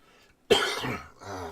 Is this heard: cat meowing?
no